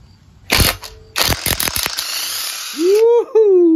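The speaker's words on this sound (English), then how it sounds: "Let's see if we can take this head bolt off." A cordless 20V half-inch impact wrench with a half-inch socket works a head bolt loose, loud close bursts of rapid hammering with short pauses, then a rising whir as the bolt spins free.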